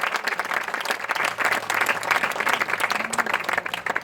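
A church congregation applauds in praise, a dense, loud burst of many hands clapping continuously with faint voices mixed in.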